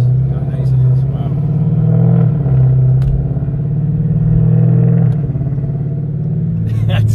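A 2018 Dodge Charger with a 6.4-liter engine drives along with a loud, steady engine rumble and gentle gear shifts, heard from inside the cabin while people talk over it.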